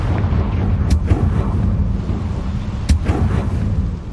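Explosive Confringo spell blasts in the Hogwarts Legacy video game, with two sharp bursts landing over a dense, loud rumbling backdrop of game sound.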